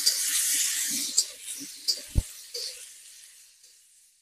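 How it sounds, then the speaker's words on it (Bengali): Chopped onion and green chili frying in oil, a bright close sizzle that fades gradually over a few seconds, punctuated by a few sharp spatula knocks against the pan. "দেখো পেঁয়াজটা ভাজা হচ্ছে"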